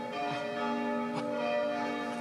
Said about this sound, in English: merry bells